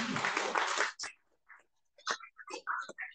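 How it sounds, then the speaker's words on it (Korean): An audience at a university entrepreneurship forum lecture breaks into a short burst of clapping lasting about a second, which stops abruptly before a speaker resumes talking quietly. "여러분 박수 한번 주세요"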